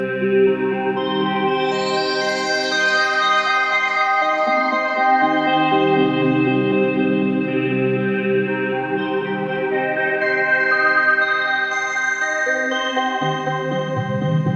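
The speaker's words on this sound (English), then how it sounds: "it's the circuit playing through the tech filter" A sustained drone from a Circuit synthesizer plays through a filter. Its tone slowly sweeps and shifts brighter and darker while the chord holds continuously.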